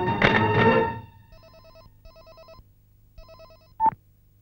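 A telephone rings in a film scene, with a voice at the start, then several short repeated ring bursts, a pause, another burst and a sharp click near the end.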